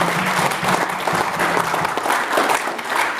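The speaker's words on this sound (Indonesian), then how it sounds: "Jadi mari tepuk tangan yang meriah untuk Kota Semarang." An audience at a school dialogue event in Semarang gives a hearty round of applause, loud, dense clapping close by that holds steady throughout, with faint crowd murmur beneath.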